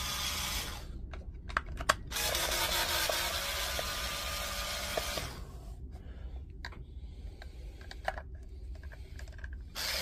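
Screws are worked out of a Milwaukee M18 battery pack: a steady whirring driver runs for a few seconds, then sparse clicks and rattles of loosened screws follow, close up with no talking.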